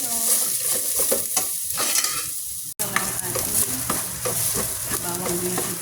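Vegetables and garlic sauté in a pan with a continuous close sizzle and frequent stirring scrapes, briefly cutting out midway before the frying noise resumes at the same level.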